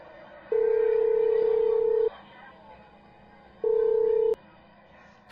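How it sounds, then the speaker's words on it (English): A mobile phone dialing out to a friend: two long, steady electronic tones, the first about one and a half seconds and the second shorter after a pause, clear and close with no talking. "So he took out his phone and called his friend David."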